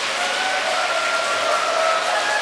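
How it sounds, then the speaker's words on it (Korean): A church lecture audience applauding a priest, with sustained, even clapping from a crowd in a hall and no pauses. "이렇게 열렬히 환호해 주시니 몸둘 바를 모르겠습니다."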